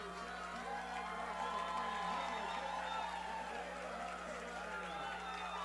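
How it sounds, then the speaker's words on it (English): A crowd cheers from the stands at a high school varsity playoff football game between Hicksville and Gibsonburg, a faint, distant wash of voices over a low electrical hum. "you can hear the crowd here on the Aces side of the field"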